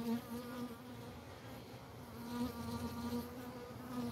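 Honeybees at an open beehive give off a steady, close buzzing hum that swells slightly as insects fly near, with no voices.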